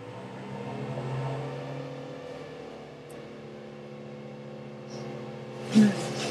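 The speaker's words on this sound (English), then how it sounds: "That truck that's making a bunch of noise out there says Tree Solutions on it." A tree service truck idles and drones outside a closed window, a low steady engine rumble with a brief louder knock near the end.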